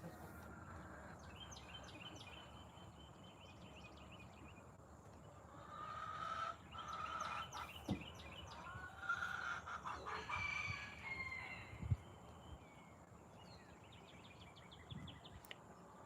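Chickens in a coop at midday snack time cluck and call intermittently, with a few louder squawks and crow-like cries rising over a soft, steady background hum; fairly faint overall.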